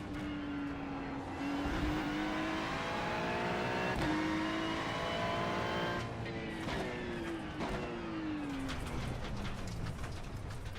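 A Ferrari race car engine screams around Thruxton in iRacing, a loud, steady high-pitched drone close up that climbs through the gears with brief dips at each shift over about eleven seconds.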